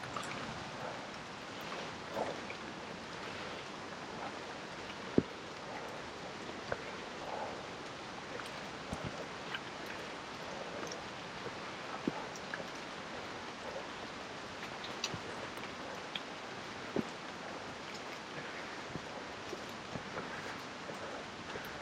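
Steady broadband wash of rain falling in a forest near waterfalls on Biliran Island during a tropical storm, with scattered faint drips and knocks; no talking.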